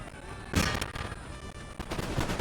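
Massed musket volleys and artillery fire from a battle in the strategy game Empire: Total War, with a loud boom near the start and rolling gunfire crackling continuously beneath.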